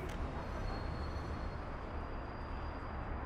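A train arrives in the Soviet city-builder Workers & Resources: Soviet Republic, a steady low rumble of rolling rail cars with a faint high whine, continuous and moderately quiet.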